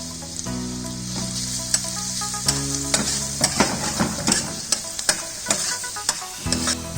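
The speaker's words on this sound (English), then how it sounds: "Add chopped onion, chopped garlic. Just saute for a while." Chopped onion and garlic sauté in oil in a pan with a steady sizzle, and sharp spatula scrapes and taps come at irregular intervals over a sustained musical backing.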